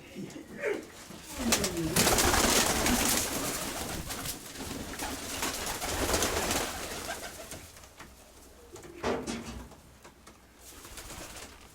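Pigeons coo in low, rolling bursts, repeated several times at close range amid a broad background hiss.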